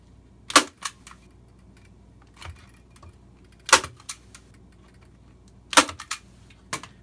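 A stapler punches pipe cleaner onto a grapevine wreath, giving three loud, sharp close clacks about two seconds apart, each followed by softer clicks and handling noises in an otherwise quiet room.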